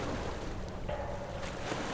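Small boat rocking on the Kylone river, with a steady low wash of water and creaking movement running continuously, fairly close, with no voices.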